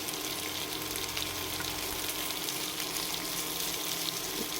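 Tomatoes, onions, curry leaves and coriander roasting in butter for butter masala rice give off a steady, close, even sizzle and crackle that carries on without a break and with no talking.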